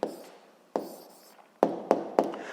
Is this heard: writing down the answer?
yes